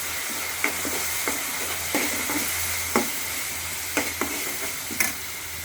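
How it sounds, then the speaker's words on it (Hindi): Tomatoes with turmeric and red chili sizzle steadily in a frying pan while a spoon stirs in a regular rhythm of scraping strokes about once a second, close and fairly loud, with no talking. "लाल मिर्ची डाल दी और इसको भी मिक्स कर लेती हूँ।"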